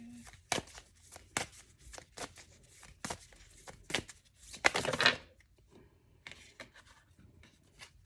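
Cards are handled and shuffled in a quiet room: a string of soft papery flicks and snaps at irregular intervals, with a denser riffling burst midway, close and fairly faint.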